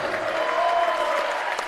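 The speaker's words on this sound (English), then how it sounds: "Crowd giving all the seniors a round of applause." A basketball crowd gives the seniors a steady round of applause, dense clapping filling the gym evenly throughout with a faint murmur of voices underneath.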